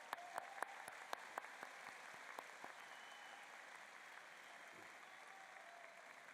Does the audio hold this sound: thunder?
no